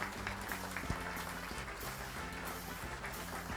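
A crowd at the Club Oriente Petrolero 66th anniversary event applauds a former player, with sustained, even clapping over a steady low tonal hum.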